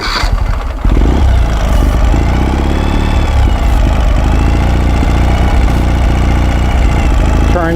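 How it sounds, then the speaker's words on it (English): A Ural motorcycle engine cranks briefly, catches and settles into a steady, loud idle with an even mechanical chug, close by and without talk. "We're going to start the bike up."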